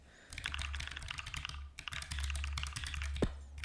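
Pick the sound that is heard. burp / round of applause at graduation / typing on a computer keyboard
typing on a computer keyboard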